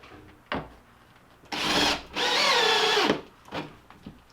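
A power drill whines in two sustained bursts, driving a screw into wood without a pilot hole while installing a boat rod holder, with brief clunks and handling noises before and after.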